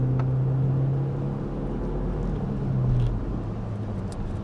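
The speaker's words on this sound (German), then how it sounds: "Ich fahre jetzt also das Auto auf Superbenzin einmal komplett warm" A BMW 316i Compact engine runs steadily on super petrol while the car is driven, a continuous low drone with a strong hum that shifts pitch slightly, heard alone without talk.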